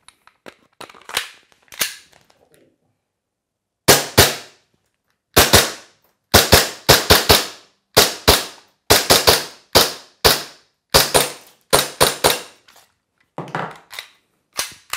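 A series of sharp, loud shots from an airsoft replica pistol, some single and some in quick doubles, with brief gaps between them and faint clicks at the start.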